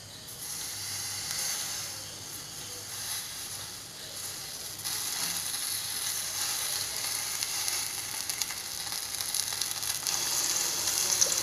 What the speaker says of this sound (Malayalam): ഈ ചട്ടിയിലേക്ക് ഞാൻ നമ്മുടെ ചെമ്മീൻ ഇട്ടിട്ട് ഫ്രൈ ചെയ്യാൻ പോവാണ്.